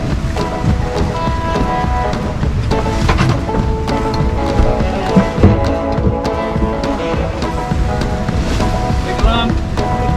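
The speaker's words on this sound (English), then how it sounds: "Really, it's like these big piled up waves" Big piled-up ocean waves surge and crash around a sailing boat in rough, unexpected conditions, a loud continuous roar with gusting wind buffeting the microphone and occasional voices underneath.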